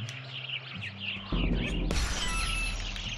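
Bright bird chirps and tweets from the Supraland Crash DLC video game, repeated short calls over a low hum, joined by a sudden crash-like burst and ringing tones partway through.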